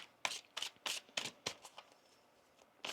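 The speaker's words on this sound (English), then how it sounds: "One more shuffle here" Quick bursts of riffling tarot cards, about six sharp shuffles in a rapid uneven rhythm, close by and fairly quiet, with no talking.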